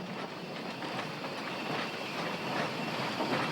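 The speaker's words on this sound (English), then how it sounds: "Our locomotive with the daily mixed train trundles on down the original alignment." A locomotive hauling the daily mixed train along an original rail alignment in Burma, a steady, loud rumble of rolling wagons with faint rhythmic clatter, continuous and without voices.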